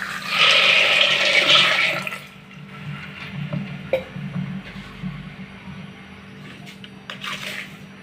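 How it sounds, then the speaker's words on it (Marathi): Water gushes loudly into a pressure cooker holding half a kilo of peanuts, a strong rushing pour for about two seconds, then quieter sloshing and clinks as it settles. "पाणी घालूया"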